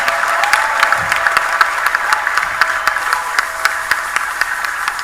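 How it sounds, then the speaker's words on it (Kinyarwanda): A church congregation claps and applauds together, a dense, even burst of hand claps sustained for several seconds without speech over it. "Ayo mashyi yongere niba ari ay'Imana"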